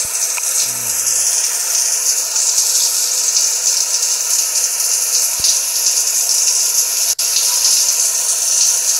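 Shower water from a cat video game runs in a steady, bright hiss that continues without a break, with one brief low thump near the start and a short dropout later.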